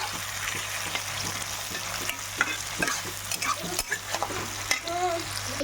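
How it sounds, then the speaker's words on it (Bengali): Pieces for dry chilli chicken fry in a pan with a constant close sizzle, while a spatula stirs and scrapes the pan again and again. "ভাজা হয়ে এসছে, দেখতে পাচ্ছি ভাজি।"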